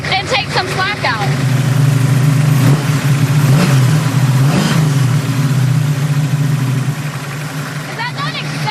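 A hot rod engine runs steadily with a low, continuous rumble while its lifters pump up, a few revs swelling in the middle; loud and close, with people talking over it.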